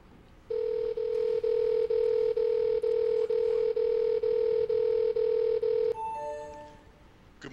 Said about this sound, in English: So now let me make a phone call real quick to my employee in Mountain View office, Bill.